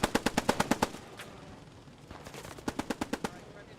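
Machine gun tracer fire in the World War II shooter Post Scriptum: two rapid bursts of sharp, evenly spaced shots, the first about eight rounds, then a lull, then a second burst of similar length, fairly close.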